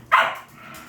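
A single short, sharp bark from a dog rings out once, close and clear, then fades into quiet room tone.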